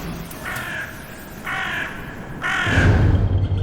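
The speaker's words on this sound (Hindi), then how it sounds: "रात में कौवे का का का ऐसा चीख रहे थे" Crows caw at night in a Hindi-dubbed South Indian film, three harsh, raspy calls about a second apart, fairly close and loud over a low background rumble that swells toward the end.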